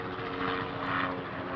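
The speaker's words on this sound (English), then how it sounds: "Apologies if it's loud overhead, that's a helicopter" A helicopter flies overhead, a loud, steady droning rotor and engine roar that holds evenly throughout with no talk.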